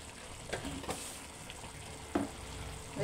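Ginger garlic paste fries in a pan for chicken curry with a steady low sizzle, broken by a few soft scrapes and taps of a spoon stirring it around.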